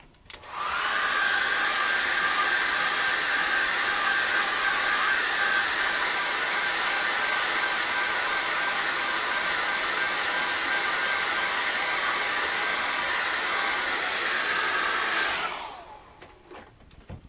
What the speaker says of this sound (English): I'm just going to give it a little zip with a hairdryer.